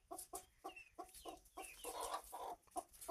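A hen clucking close by in a Tamil farmyard, a string of short repeated clucks in uneven bursts with a brief drawn-out cackle in the middle.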